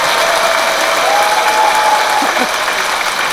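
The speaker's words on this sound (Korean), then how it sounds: "큰 박수 부탁드립니다" Loud, sustained applause from a sizable audience at a Catholic clergy training lecture, a dense continuous patter of clapping hands throughout.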